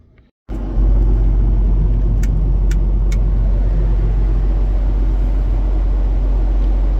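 After a brief quiet moment, a John Deere 7410 tractor's diesel engine starts and idles with a steady, loud low rumble, a few faint metallic clicks over it.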